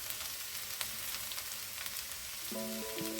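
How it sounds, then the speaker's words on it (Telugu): Lady's finger (okra) fries in a pan with a steady, close crackling sizzle, joined near the end by a brief electronic beeping tone. "స్టిక్కీనెస్ పోయేదాకా మంచిగా ఫ్రై చేసుకోవాలి"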